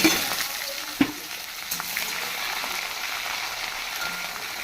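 Onion frying in hot mustard oil with bay leaf, dried red chilli and cumin for a mutton dish, a steady bright sizzle with a couple of sharp pops near the start.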